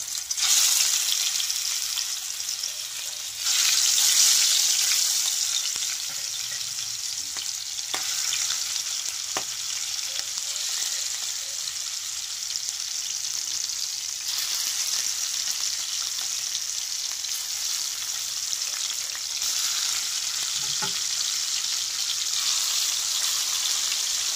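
Stingray fish pieces fry in hot oil, making a loud, continuous crackling sizzle up close. There are occasional soft clinks and a brief louder hiss burst near the start.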